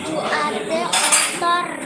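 Dishes and cutlery clink and clatter nearby in a steady, busy wash, with a brighter splash of noise midway.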